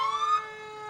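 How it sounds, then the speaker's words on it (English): Hudson's volunteer fire department engine sounding its siren while rolling past in the 2015 Pepper Fest parade: a loud, close wail with a rising pitch that then holds steady for under a second. "This is Hudson's Fire Department rolling through here."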